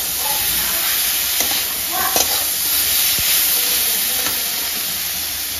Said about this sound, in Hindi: आज इसको थोड़ा सा पहले भून लीजिए